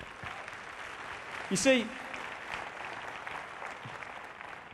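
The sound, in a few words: audience applause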